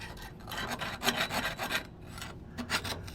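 A worn steering-stabilizer mounting surface on a Peterbilt RV-hauler truck is scraped and filed clean of old residue, giving repeated close, rough rasping strokes in uneven bursts with short pauses between them.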